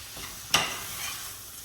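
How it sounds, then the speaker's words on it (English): Chakalaka with curry being stirred in a pan, one sharp scrape of the spoon against the metal standing out over a faint, steady sizzle. "Okay, so let's mix it up."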